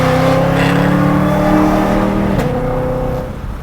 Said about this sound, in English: The shifts are so bitchin' on the DCT, paddling it, man, they're just, instant, quick shifts.